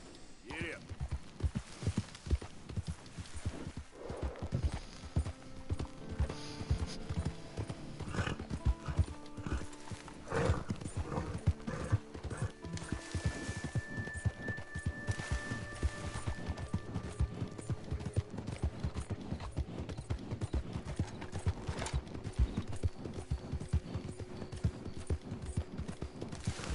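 Horse hooves clip-clop at a steady trot in the video game Red Dead Redemption 2, with rapid rhythmic footfalls throughout, occasional whinnies and a voice talking over the gallop.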